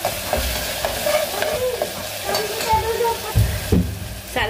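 Goldie gosht masala being fried in a pan for a meatball dish, an even sizzle with scraping stirs and a few thumps from the spoon, heard close up.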